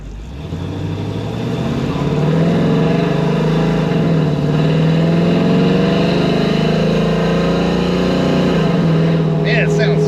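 A car engine fitted with a big cam and a stock torque converter idles and builds to a loud, steady, lumpy rumble close by, holding a rough throb throughout.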